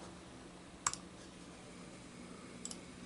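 Computer mouse clicking, one sharp click early followed by a fainter double click near the end, close but quiet over a low background hum.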